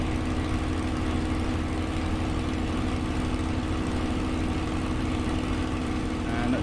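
Spitfire L.F. Mk IXc piston engine in Microsoft Flight Simulator, a steady, loud drone with rumbling low tones held evenly throughout, no change in pitch, heard alone without talk.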